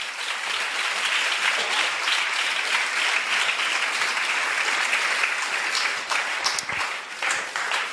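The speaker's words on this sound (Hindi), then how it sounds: "चलिए जोरदार तालियां बजाइए प्रभु की महिमा।" Steady, dense applause from a church congregation during a Hindi-language sermon on holiness, loud and continuous for the whole stretch without a break.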